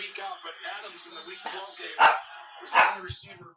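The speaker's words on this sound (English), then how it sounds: "Yep, that's the dog." A dog barks in a few sharp, fairly close outbursts near a coffee shop, mixed in with someone talking and the muffled sound of a televised football game.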